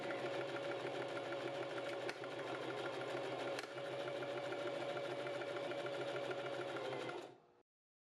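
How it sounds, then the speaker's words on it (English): A sewing machine stitches a buttonhole with a buttonhole foot, a steady close mechanical whir that runs continuously for about seven seconds, with a couple of brief catches, before stopping abruptly. "Now when I started sewing,"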